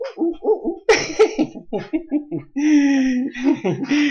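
A little owl hoots in a comedic sketch: a rapid series of short, breathy hoots is followed by a longer sustained call, mixed with chuckle-like vocal bursts.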